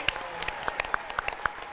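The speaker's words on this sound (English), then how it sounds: "Fake clapping, I like that." A studio audience gives a brief, sparse round of clapping, a few scattered individual claps spread irregularly, thin and faint, at a live talk show.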